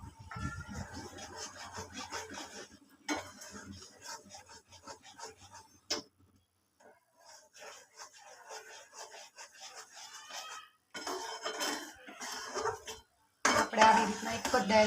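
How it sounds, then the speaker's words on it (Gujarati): A spoon scrapes and clinks against a pan while Mysore pak mixture with ghee is stirred, irregular metallic rasps and taps in bursts, some quiet gaps, close and fairly soft. "હવે એને હલાવીશું."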